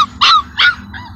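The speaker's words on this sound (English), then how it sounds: "there's no reason to bark at me" A puppy about four weeks old gives two high, sharp yips close by, followed by a softer whiny note.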